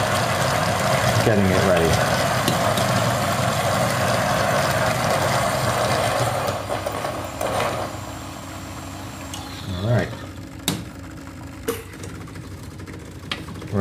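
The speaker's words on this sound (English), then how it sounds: "I do have another portafilter, so I'm gonna start grinding" A coffee grinder whirs loudly and steadily for espresso for several seconds, then cuts out, leaving clinks and handling sounds as a person speaks briefly.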